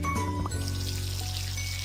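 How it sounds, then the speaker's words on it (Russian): Running tap water pours steadily over washed dishes to rinse off soap foam, a continuous close splashing stream with a brief clink of dishware near the start. "Так, моем посуду. Отлично. Смываем пену."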